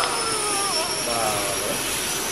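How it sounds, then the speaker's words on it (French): A toy rescue helicopter sound plays as a loud, continuous whine and roar, close and steady throughout. "c'est un hélicoptère de secours"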